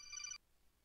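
A telephone rings with a short, bright electronic trill that cuts off abruptly after a fraction of a second, leaving quiet background.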